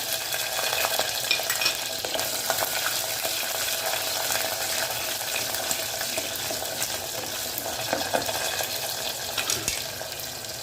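Garlic and onions sauté in a pan for a mango kuzhambu, giving a steady, close sizzle and crackle with occasional stirring scrapes throughout, and no talking.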